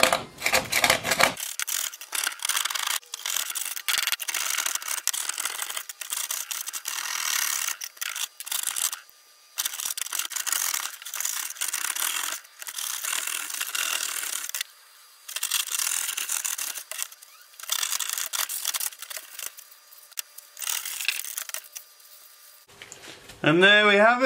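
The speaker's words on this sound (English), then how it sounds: "we may have to go and use the wallpaper scraper" A wallpaper scraper grinds and rasps hard cement off a metal tool in long, loud bursts of gritty scraping, broken by brief pauses and ending with a short voice.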